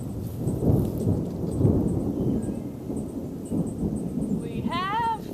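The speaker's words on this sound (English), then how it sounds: "We have thunder." Thunder rolls through a summer rainstorm, a low, heavy rumble swelling over steady pouring rain, with a high birdlike chirp rising near the end.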